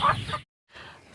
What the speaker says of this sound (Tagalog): Dami ng manok. May mga sisiw.